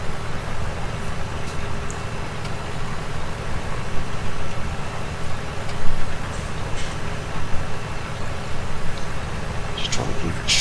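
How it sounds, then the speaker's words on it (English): A tractor engine of nearly 300 horsepower in Farming Simulator 17 drones steadily under continuous talk, a low, even rumble pulling up a hill. "I think this tractor's nearly 300 horsepower, so it shouldn't struggle too much."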